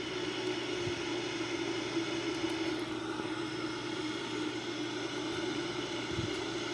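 Steady, broad engine roar of a Boeing 787-9 under automatic thrust on an ILS approach, heard continuously from inside the aircraft as a dense, unchanging drone with a low hum running underneath.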